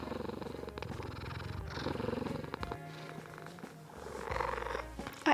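A cat purring up close, a continuous low rumbling under soft handling noises, with a brief louder knock at the very end.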